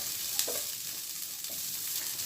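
Mushrooms and onion fry in a little oil in a pan for a creamy mushroom sauce, giving a steady bright sizzle with a couple of soft stirring scrapes.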